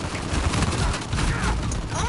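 A burst of rapid automatic gunfire rattles through an Uncharted 4 firefight, a dense, continuous volley filling the whole two seconds at close range.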